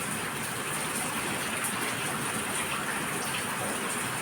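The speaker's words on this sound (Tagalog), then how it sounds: "Gaya ngayon, umulan na naman." Steady rain pouring down on a June afternoon during the rainy season, a dense continuous hiss of drops on surfaces, fairly close and even throughout with no voices.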